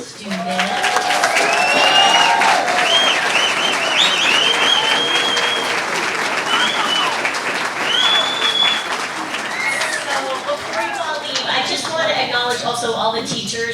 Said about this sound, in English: Can we get one more round of applause for the students?